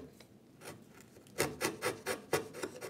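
A narrow quarter-inch chisel paring a ridge off wood, heard up close as a run of rhythmic rasping strokes that starts faint and grows into about six firm, evenly spaced scrapes, with no talk.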